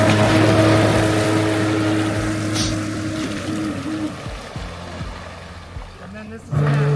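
Electric jet boat from AdmitJet running slowly on water, a steady low motor hum with water wash, fairly close and continuous, while people talk over it.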